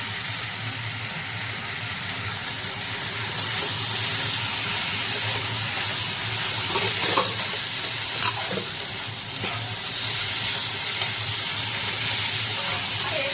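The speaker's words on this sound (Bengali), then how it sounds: "এখন ভালোভাবে নেড়ে নেব, ভালোভাবে আলুটাকে কষিয়ে নেব" Diced potatoes sizzle in a pan with ginger-garlic paste as they are stirred and fried down, making a loud, continuous frying hiss with scraping stir strokes throughout.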